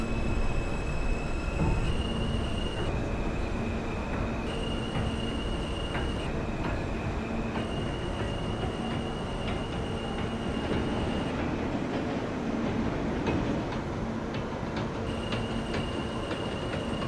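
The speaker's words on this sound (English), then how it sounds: "This is a Jamaica Center bound J local train." An R160 subway train runs steadily on a J local line in a train simulator game, with a continuous rumble of wheels and motors, faint clicking over rail joints and squealing tones, and no talk.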